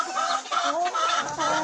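Domestic hens cluck in short, bright, overlapping bursts on a small farm flock, close and clear for a brief moment with no talking.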